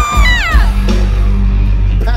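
A big crowd at a country concert cheers and yells loudly, with sharp whoops and hollers at the start and again near the end over a steady roar.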